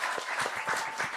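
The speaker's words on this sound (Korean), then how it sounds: "네, 박수하겠습니다." A church congregation applauds at a Wednesday prayer meeting marking a discipleship training graduation, with brisk, moderately distant clapping that patters in quick, uneven bursts.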